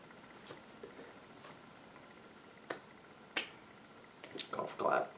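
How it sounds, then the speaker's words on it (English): A handful of soft, widely spaced hand claps, quiet and unhurried like a polite golf clap. A short burst of talking follows near the end. "Golf clap."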